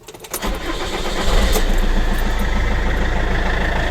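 An Iveco Daily 2.3 HPI van engine cranks briefly and catches, then settles into a loud, steady diesel idle with a rough, tractor-like rumble, close by and without talk.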